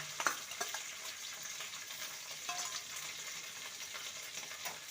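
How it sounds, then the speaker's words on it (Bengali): Ginger garlic paste sautéing in a pan, a soft continuous sizzle with a few light stirring scrapes near the start, faint and close, with no voices. "আদা রসুনকে ভালো করে কষিয়ে নিয়েছি"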